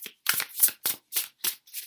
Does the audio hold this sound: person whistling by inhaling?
no